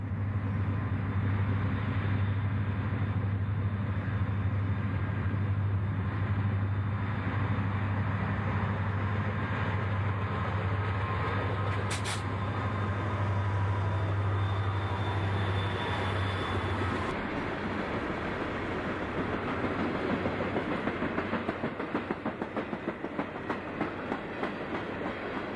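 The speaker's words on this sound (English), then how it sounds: "The middle unit is far from its Omaha, Nebraska home. It's a Union Pacific SD-40." A freight train led through with a Union Pacific SD-40 as the middle unit rolls past on former Central New Jersey tracks, a steady loud diesel drone with a bright squeal briefly, then rattling wheel clatter as the cars continue by.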